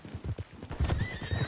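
A horse in Red Dead Redemption II clops along a town street with steady hoofbeats, then lets out a clear whinny over the footfalls, close and moderately loud.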